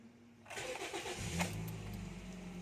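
A 2014 Toyota Vios with a hard-starting problem cranks and catches, its engine quickly settling into a steady, close idle with a slight rev.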